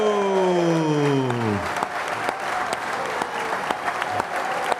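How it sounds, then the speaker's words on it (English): A studio audience applauds a guest on a TV show, steady, dense clapping that follows a fading musical sting and continues evenly throughout. "Big round of applause"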